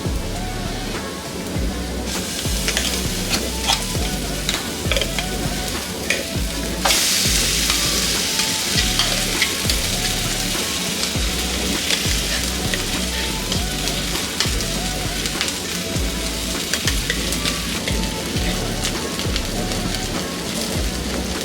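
Ground okra chutney frying in a pan over a medium flame, a steady close sizzle with scraping stirs throughout and a brief louder hiss partway through, no voices.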